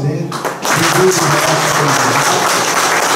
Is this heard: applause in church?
yes